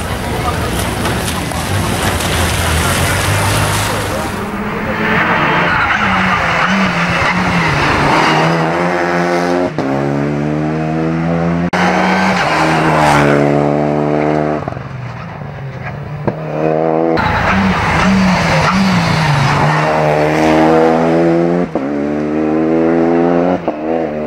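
A Renault Clio Rally5 rally car at the start of a Trentino rally stage, its engine revving loud and close through repeated rising acceleration sweeps, with gear changes and brief idling dips, and a voice speaking over the start.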